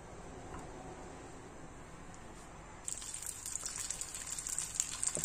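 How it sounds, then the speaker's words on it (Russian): Sliced sausage rounds fry in hot oil in a pan, giving a steady, low sizzle that jumps to a louder, brighter crackle partway through and stays busy to the end, with no talking. "Поджариваем."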